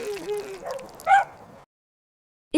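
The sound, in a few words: dog barking in animated story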